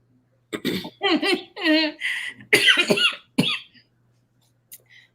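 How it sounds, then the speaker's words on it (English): Several harsh coughs and throaty bursts come in quick succession, close to the ear, with a brief gasp and quieter sounds near the end. "I don't know where this cough coming from."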